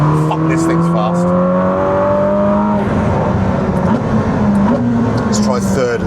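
A Ferrari 296 Speciale is driven hard while sliding: the engine note climbs loudly through the revs, dips at a shift, then pulls again, with tire noise beneath, close and dominant throughout.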